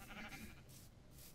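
Sheep bleating in the video game Minecraft, a short, fairly faint wavering call heard alone over quiet background.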